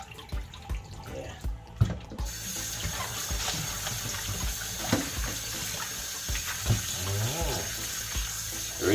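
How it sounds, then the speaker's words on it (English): Tap water runs and splashes into a sink while chicken back is rinsed, with intermittent clunks, drips and handling knocks over the steady flow. "Rinse it off again now."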